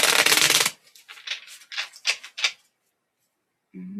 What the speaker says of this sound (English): Oh, look at this card flew out when I was shuffling.